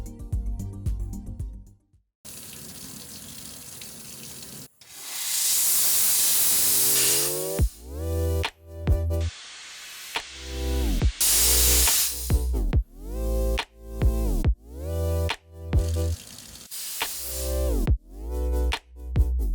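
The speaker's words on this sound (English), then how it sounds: "Now that the polishing is finished, it's time for a little ultrasonic cleansing and steam." Steam jets blast in loud hissing bursts onto polished gold watch parts, starting with a long continuous spray and then turning into a quick series of short, close puffs.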